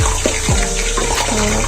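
Water poured into a cooking pot while making aloo palak with spices, a short close splashing and trickling pour with no talk.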